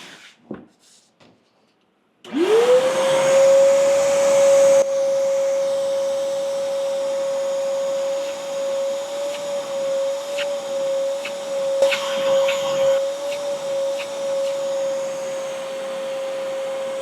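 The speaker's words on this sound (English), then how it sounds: "We're going to vacuum directly out of this." A shop vacuum pulling through an Oneida low pro Dust Deputy cyclone spins up after a few soft knocks. It settles into a loud, steady whine that runs unbroken, with faint rattles and scraping of debris being sucked in.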